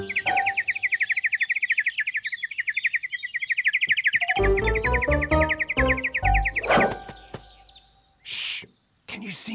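A bird chirps rapidly and steadily in a long trill, then playful plinking tones and whooshes take over, with a few more chirps near the end.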